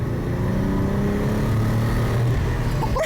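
A Nissan R34 Skyline engine, freshly fixed with new coil packs, runs close by with a smooth, steady hum throughout.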